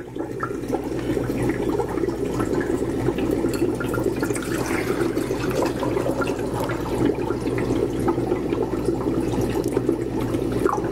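Anodizing dye liquid is poured into a container, giving a steady, continuous close-up splashing and gurgling of liquid that runs without a break and without any talk.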